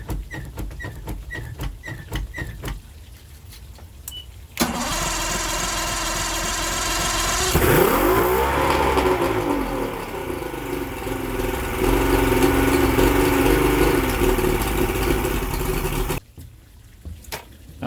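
Clicks and short beeps precede an outboard boat engine cranking and catching, then running at a loud, uneven idle with some revving before cutting off abruptly.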